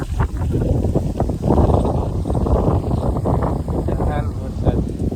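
Strong gusts of wind ahead of rain in a Botad village in Gujarat buffet the microphone with a continuous low roar that swells and falls. Someone speaks over it.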